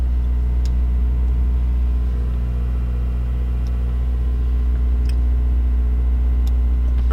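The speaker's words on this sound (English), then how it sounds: "Start the car, let me warm it up." A Honda Civic Si FA5 engine idles while warming up, a steady, loud, low rumbling drone that holds evenly throughout with faint ticking on top and no voices.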